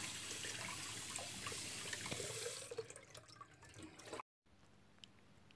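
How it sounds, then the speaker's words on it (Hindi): Potatoes being washed by hand in water at a kitchen sink, with steady running tap water and splashing that ease off partway, then a brief silence before faint trickling resumes. "आलू को अच्छी तरह धोना ज़रूरी है अच्छी तरह वॉश ज़रूर करना है"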